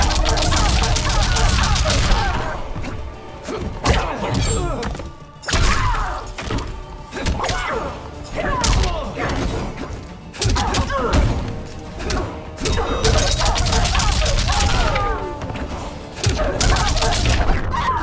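Fighting in Mortal Kombat 11 between Liu Kang and Jade, with a steady barrage of punches, kicks, thuds and shattering impacts, loud and close, mixed with combat grunts and vocal shouts throughout.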